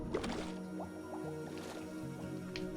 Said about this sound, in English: So we will go back down here through the waterfall